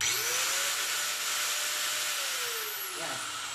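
A Fixman corded angle grinder runs held in hand, a steady high-pitched motor whine spinning at full speed for several seconds, loud and close, with a slight pitch sag near the end.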